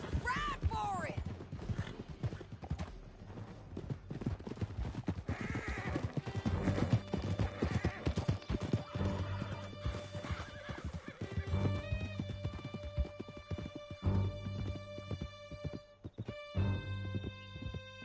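Galloping horses in Red Dead Redemption 2, with clip-clop hooves and neighing and whinnying under a steady game music score, in a continuous loud passage throughout.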